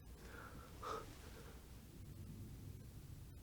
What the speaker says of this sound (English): you can actually hear the breathing